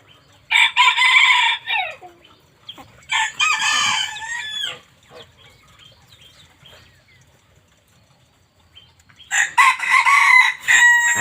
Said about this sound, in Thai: ไก่ป่าร้อครับ